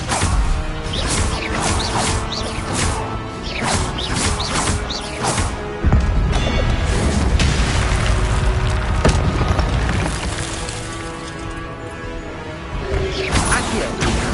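Incendio fire spell in Hogwarts Legacy, amid a loud string of spell-combat effects: whooshing bursts, thuds and booming crashes follow one another rapidly, with one sharp heavy impact near the middle.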